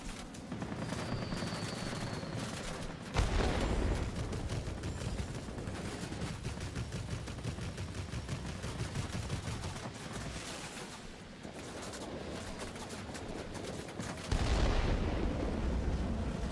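Dense, sustained gunfire and cannon bursts pound continuously at a German Messerschmitt Me P.110 heavy fighter in the World of Warplanes game, loud and chaotic throughout with heavier blasts near the start and end.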